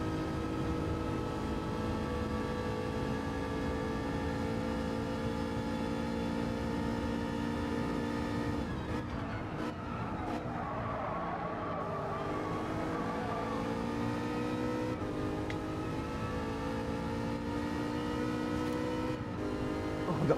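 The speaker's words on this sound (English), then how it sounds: "It's a massive bunch of cars going into the first corner." Race cars in the Gran Turismo 7 video game bunch into the first corner, a dense, steady roar of many engines with layered whining tones that dip and rise briefly as they brake and accelerate together.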